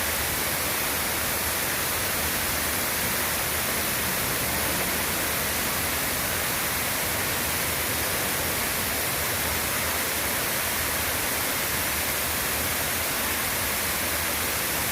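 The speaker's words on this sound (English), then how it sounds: "I just love these sounds, the sounds of the water falling." Water falls from a fountain on the Las Vegas Strip, making a steady, dense rushing hiss that stays constant and unbroken from start to finish, with no voices over it.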